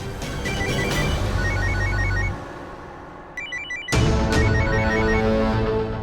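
In a Hindi TV drama scene, an electronic phone ringtone chirps in repeated short bursts over a busy musical backdrop, pausing briefly before resuming loudly.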